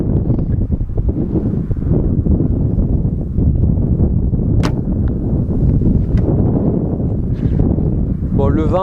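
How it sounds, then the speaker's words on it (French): Wind blows outdoors during bow hunting with a new traditional archery bow, a constant loud buffeting rush over the microphone for the whole stretch, with faint rustling and a brief high bird-like chirp near the end. "le vent aide pas forcément."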